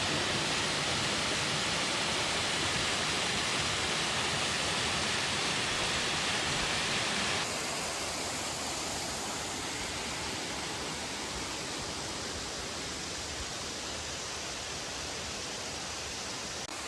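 Steady roar of a mountain waterfall in Dolly Sods, heard from the top of the falls; broadband rushing water fills the whole stretch, continuous and close, with a slight shift in tone partway through and no voices.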